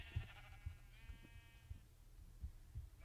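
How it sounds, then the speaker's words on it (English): A sheep in a survival video game lets out one drawn-out bleat that is fairly faint, over a quiet bed of soft, regular thuds. "Get out of my way, sheep."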